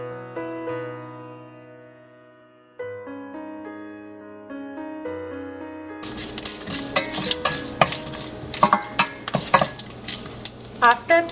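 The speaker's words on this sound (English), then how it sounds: "Saute these for 2 to 3 minutes." Ginger, green chili, curry leaves, cashews and urad dal sauteed in a pan for instant rava idli, a steady sizzle with repeated spoon scrapes against the pan, entering halfway after a quiet stretch and continuing loudly to the end.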